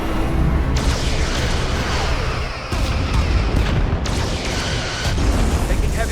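Starship weapons fire and explosions in a Star Trek: Resurgence battle: continuous roaring, crackling blasts with sharp booming impacts breaking through every second or so, loud and dense throughout.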